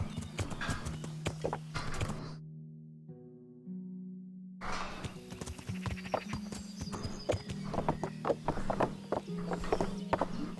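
Rhythmic hoof clip-clops of a horse walking in Kingdom Come: Deliverance, steady and fairly close, with a brief pause mid-clip and a whinny-like tone over a droning game soundtrack.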